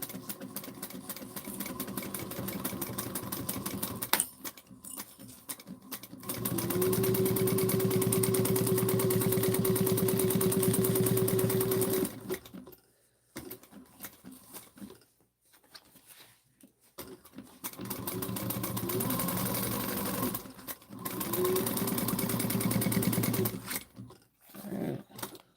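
A new home sewing machine stitches fabric for a bowler bag, running in two steady whirring bursts of several seconds each, separated by pauses and short stops. It is close and fairly loud, with no talking.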